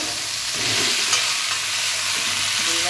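Vegetables frying with gandhal leaves in a hot pan, a loud continuous close sizzle and hiss with faint stirring underneath.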